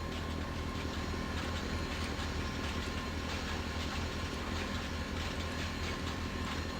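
A model train in a railway video game rolls along its track with a steady mechanical rumble and faint rhythmic clicking, unbroken and even in loudness throughout.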